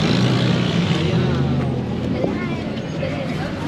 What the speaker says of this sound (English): Now we're on the bus in Venezuela.